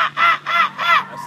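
A man imitating a crow's call with his voice, four rapid hoarse caws in a quick rhythmic series, close and loud.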